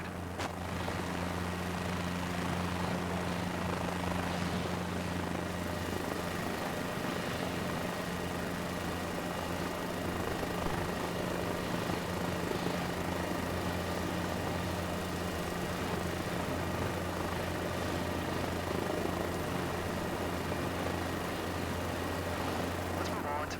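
A steady, droning engine hum with low rotor-like tones holds constant throughout, no pauses or changes, from a helicopter hovering about two feet up in a flight simulator.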